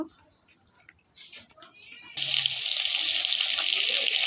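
Tap water gushes into a sink over cut cauliflower, a loud steady rush that bursts in halfway through after a quiet stretch of faint kitchen sounds and a voice.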